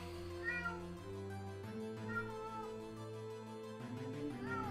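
A cat in the video game Ace Attorney gives several drawn-out, rising and falling meows one after another, clear and fairly close, with no voices alongside.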